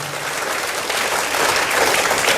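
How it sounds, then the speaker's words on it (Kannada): Audience applause at a community poetry gathering, a dense, steady wash of many hands clapping together that holds at a constant, fairly loud level throughout. "ಜೋರಾಗಿ ಕೈ ಚಪ್ಪಾಳೆ ಕೊಡೋಣ"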